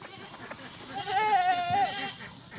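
Goats bleat on a homestead, one long wavering cry standing out clearly near the middle, with fainter animal calls and low background noise around it.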